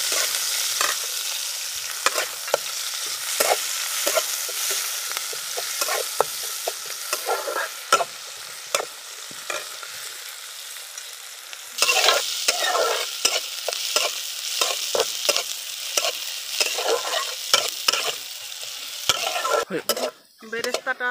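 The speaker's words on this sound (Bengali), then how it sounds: "এখন আমি পেঁয়াজের বেরেস্তাটা ভেজে নেব, তাই কড়াইর উপর তেল দিয়ে দিলাম" Chopped onions frying in hot oil in a wok over a clay stove for crispy fried onions: loud continuous sizzling with frequent metal spatula scrapes and stirring clatter, briefly quieter midway then vigorous again.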